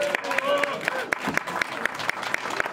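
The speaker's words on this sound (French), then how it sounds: "On applaudit Florence Sestac." Audience applauding at a comics festival award ceremony as a winner comes up: steady, dense clapping from a crowd, close and continuous throughout, with a voice faintly underneath.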